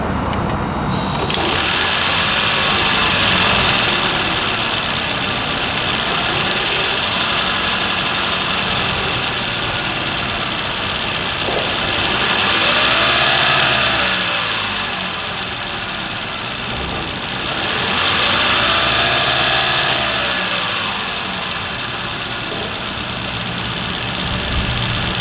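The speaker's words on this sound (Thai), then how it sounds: "มาฟังเสียงเครื่องยนต์กัน" A Toyota Camry 2.5 hybrid engine idles with a steady, loud hum and hiss heard up close, swelling gently twice with soft whooshing surges.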